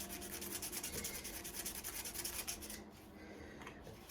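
A firearm part is sanded by hand, giving continuous rhythmic scratchy back-and-forth rubbing strokes, close and fairly quiet, that stop abruptly near the end, leaving faint background noise.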